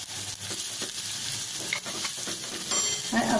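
Turmeric goes into hot oil already sizzling with chili paste for a tempering. A steady frying hiss runs throughout, close and fairly loud, with occasional scrapes of a stirring spoon.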